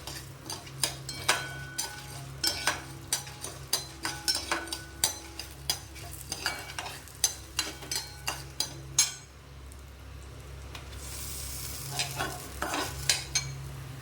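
Ingredients frying in a pan until reddish, a rapid train of sharp scraping and clinking stirring strokes over a low sizzle, close and loud, pausing briefly before the sizzle swells and stirring resumes.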